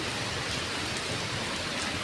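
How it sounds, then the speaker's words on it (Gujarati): Rain is just beginning to fall outdoors, an even, dense hiss of drops landing all around, steady and unbroken for a couple of seconds. "જો વરસાદ ચાલુ થઈ ગયો છે."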